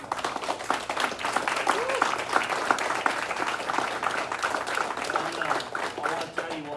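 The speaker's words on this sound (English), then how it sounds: "the leaders on this front line just really deserve another round of applause" Audience applauding at an adult Brazilian jiu-jitsu belt promotion ceremony, steady dense clapping that fills the room at even loudness throughout, with a few voices faintly mixed in.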